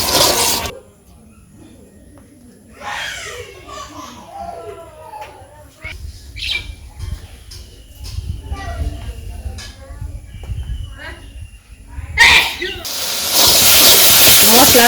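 Spices frying in a pan for a village-style chicken curry, loud hissing sizzle at the start and swelling again at the end, with children and adults talking in between.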